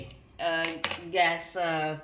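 A metal stand is set down inside a kadhai to steam rava dhokla, giving a short close clatter of metal on metal with ringing tones and one sharp clank in the middle.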